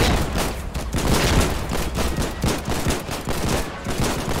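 Rifle gunfire fills a battle in the video game Foxhole, with dense overlapping shots cracking in rapid irregular bursts at close and middle range and a constant loud barrage throughout.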